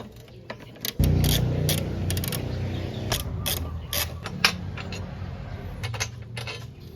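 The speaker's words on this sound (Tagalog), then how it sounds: "gamit tayo ng 12mm socket para dito sa grab bar" A 12mm socket wrench loosening bolts on a motorcycle grab bar: rapid ratcheting clicks in repeated bursts over a running mechanical whir, close and fairly loud with occasional metallic clinks.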